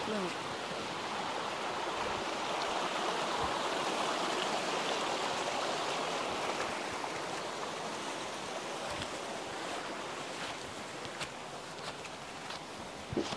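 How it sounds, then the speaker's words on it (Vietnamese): A mountain stream in a Vietnamese forest rushes steadily, a dense, continuous wash of flowing water that stays close and fairly loud throughout, with a few soft knocks near the end. "Đi qua khe suối này à?"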